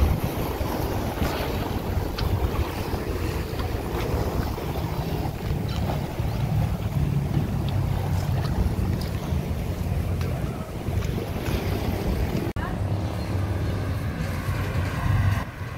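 A boat pulls up to the steps at Railay Beach in Krabi, Thailand, at high tide, with a continuous engine rumble, sloshing water and heavy wind buffeting the microphone throughout.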